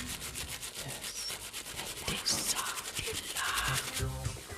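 A bloodstained key is scrubbed hard to clean it, a rapid rhythmic rubbing and scratching of bristles, close and fairly loud, continuing throughout without a break.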